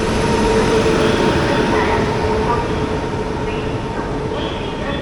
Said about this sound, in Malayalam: അപ്പം നമ്മൾ പ്ലാറ്റ്ഫോമിലേക്ക് എത്തി അധികം താമസിയാതെ ടുവേർഡ്സ് തൃശ്ശൂരിലുള്ള ആദ്യത്തെ ട്രെയിൻ വന്നു.